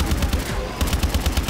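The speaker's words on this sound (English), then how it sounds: "Where's the turret? Turret somewhere. Oh, shit. And they shoot all by themselves." Automatic turret gunfire in Call of Duty Exo Zombies, rapid rhythmic bursts of shots, loud and close, with a brief pause before the firing resumes at the same steady pace.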